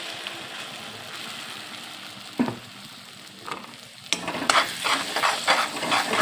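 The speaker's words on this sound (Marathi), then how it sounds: "आपण हे मिक्सरमध्ये केलेलं वाटण टाकून घेऊ" Ground peanut paste drops into a pan of sizzling curry leaves and turmeric, giving a soft frying hiss with a few sharp clinks and then louder scraping and sizzling as it is stirred.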